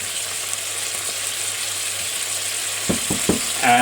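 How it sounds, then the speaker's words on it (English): Onions and chili mix sizzle in a pan for Texas chili, a steady moderate frying hiss, followed near the end by a few stirring scrapes. "And now this is going to sizzle off a bit more, and we'll get some of that extra browning that we like."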